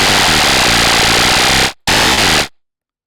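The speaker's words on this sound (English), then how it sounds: "use the modulator oscillator into the carrier with some FM" FM synthesis from a Reaktor Blocks DWG oscillator, with the modulator oscillator driving the carrier: a dense, harsh, buzzing tone that plays loud and steady, cuts out briefly, returns, then stops.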